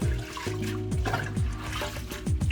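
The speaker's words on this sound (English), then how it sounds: "the water and massaging them, as some people say. This is how you wash them." Collard greens are massaged and stirred through water, with a steady close slosh, gurgles and light splashes repeating at an uneven rhythm.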